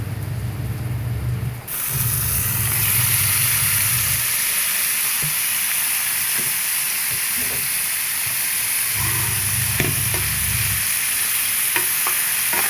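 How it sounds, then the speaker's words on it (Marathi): Onion and tomato fry in a pan for a spicy Ghati-style chicken, a constant loud sizzle with intermittent scrapes and clinks of stirring, heard up close without talk. "फ्राय करून घेतो कांदा टमाटर"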